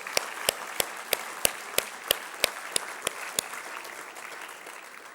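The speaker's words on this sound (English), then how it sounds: "Let's give them a round of applause." Graduates at an Executive MBA graduation ceremony applaud their professors. A broad crowd patter runs throughout, punctuated by a regular series of sharp, close individual claps that stop after about three and a half seconds while the background clapping continues.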